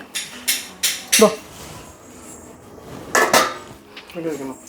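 Metal pot of Pongal being handled as it comes off the stove: a series of sharp metallic clanks and scrapes, some close and loud, with brief rustling in between and no speech.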